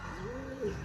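A homing pigeon just back from a race out of Vigan gives a short, close, soft coo, a single rolling low call standing alone with no speech.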